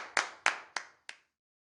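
Four sharp, evenly spaced claps from children, short and fairly faint, ending in silence.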